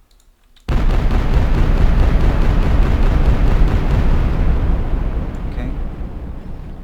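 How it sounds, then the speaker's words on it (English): Continuous loud roaring barrage of weapon fire from a shooter prototype built in Unreal Engine 4, starting abruptly after a short silence and sustained dense and close, with a brief spoken word over it. "So he keeps on shooting."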